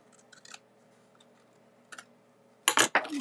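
Scissors snip through paper while trimming a piece for a stamped craft card: a few faint clicks early on, then a louder, close burst of cutting strokes near the end.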